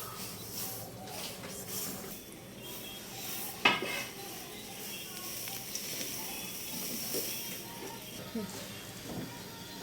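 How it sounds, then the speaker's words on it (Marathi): Sesame-jaggery syrup being stirred in a pan for til laddoos, a steady scraping and scratching of spoon against metal with occasional clinks, one sharper knock near the middle, moderately close under faint background noise. "पाक तयार झालेला आहे, याला आपण चांगलं ढवळून घेऊया"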